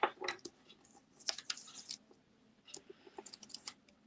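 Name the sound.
peeling a stencil mask off paper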